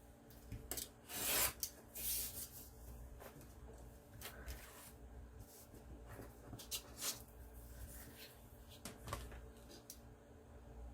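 Scissors cutting the margin off a sewn fabric pouch, a few sharp close snips followed by soft rubbing and handling of cloth, quiet overall.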